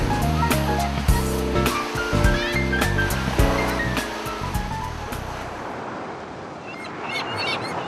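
Sea waves wash onto a sandy beach lined with pine trees on the Azure Sea in Evia, Greece, a steady broadband surf rising under music that fades out, leaving the waves alone toward the end.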